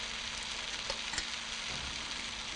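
Bean sprouts frying with leeks and prawns in a hot pan, giving a soft continuous sizzle and crackle throughout, faint and even, with no talking.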